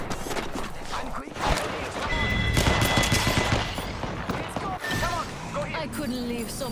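Automatic gunfire from a weapon in the Apex Legends shooter game, sustained loud bursts of shots mixed with game effects and in-game voice lines, a brief lull before the firing resumes.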